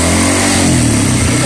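Motorcycle engine revving steadily at high RPM, near and loud throughout, with a fullwave 12V charging conversion fitted; no voices, just a constant mechanical drone.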